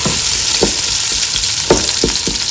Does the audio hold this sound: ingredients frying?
yes